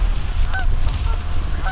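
Geese honk in short nasal calls, several spread across the clip, heard outdoors at a moderate distance over steady wind noise during a Merriam's turkey hunt in northwest Nebraska; no speech.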